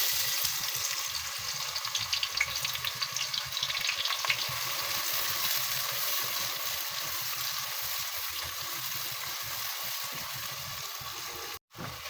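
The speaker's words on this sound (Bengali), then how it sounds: "দিয়ে দিচ্ছি পেঁয়াজ" Sliced onions fry steadily in hot oil for biryani birista, a dense, continuous crackling sizzle close by with faint stirring scrapes, running unbroken apart from a brief dropout near the end.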